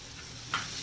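A white sauce sautés in a pan with black pepper, chili flakes and oregano, giving a soft, steady sizzle with one brief stirring scrape near the end and no voices.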